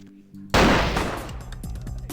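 Gunfire in the video game Vampire: Bloodlines erupts as a loud burst over faint background noise, followed by a decaying rumble with a few smaller repeated reports.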